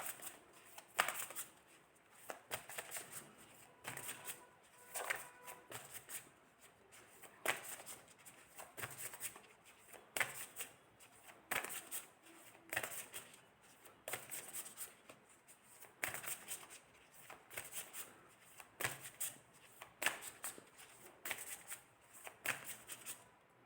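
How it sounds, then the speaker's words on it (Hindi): Tarot cards shuffled by hand, steady repeated riffling flutters in close, even bursts over a long stretch, no voice present. "ओके, मैं एक बार और कार्ड शफल करूँगी।"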